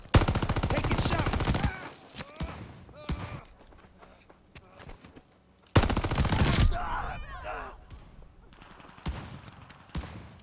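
Gunfire in Call of Duty: Vanguard, with two loud dense bursts of rapid shots near the start and middle, fainter single shots scattered between, and voices speaking in places.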